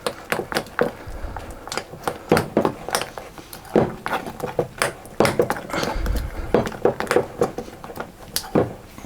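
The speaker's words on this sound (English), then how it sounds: "It's quite strong almond extract, so I'll just give that a mix around." A spoon stirs strong almond extract into a mixture for a chocolate and almond Battenburg, with rapid, close clinks and scrapes against the bowl coming in an uneven rhythm and no talking.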